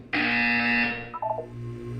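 A loud electronic buzzer from the Portal 2 video game sounds once, a sharp tonal blast followed by a short stepped electronic chirp as it fades out.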